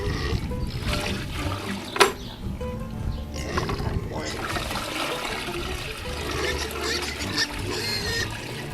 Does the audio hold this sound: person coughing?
no